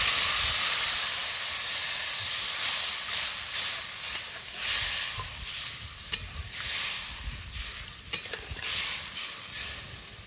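Water is poured into a pan of lightly fried rohu fish curry with tomato, chilli paste and turmeric, setting off a loud sizzling hiss that fades gradually amid stirring scrapes.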